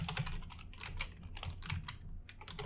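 Someone typing code on a computer keyboard, with quick, irregular clicking keystrokes close up and fairly quiet, no speech.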